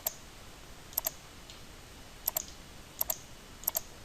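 Repeated mouse clicks, mostly in quick pairs, while drawing a drainage path in Autodesk Storm and Sanitary Analysis software; crisp, close and moderately loud against a faint background hiss, with no talk.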